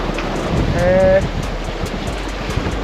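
A Mini 6.50 sailboat tacks upwind on the Baltic Sea in 14 to 18 knots of wind. Loud, steady wind rush and the wash of waves fill the scene, with a brief tonal whine partway through.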